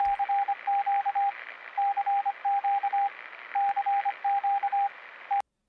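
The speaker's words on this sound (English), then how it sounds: "this time you get Radio Signal Alpha Lima" Radio Signal Alpha Lima from Fallout 3 broadcasts as a steady series of clipped electronic beeps in uneven rhythmic groups over a constant hiss of static, ending in a sharp click.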